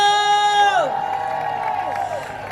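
An audience at the Ultimate Women's Expo cheers and applauds, a loud sustained wash of clapping and whoops beginning under a rising, shouted voice that fades out as the crowd noise carries on.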